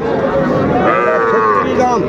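A bull calf moos loudly and continuously, a long drawn-out low call over the steady bustle of a busy cattle market crowd at Aftabganj, Dinajpur.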